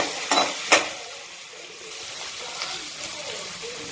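Onion and garlic sizzle steadily in a hot pan, with a couple of sharp utensil scrapes and stirring clinks near the start.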